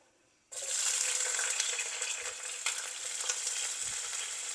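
Sliced bitter melon salted and frying in a modest amount of oil, a loud steady sizzle that bursts in suddenly and holds with crackling and faint stirring knocks throughout.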